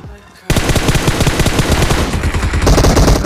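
Loud, rapid automatic gunfire in PUBG Mobile erupts suddenly after a quiet half second and continues as dense, close bursts until the end.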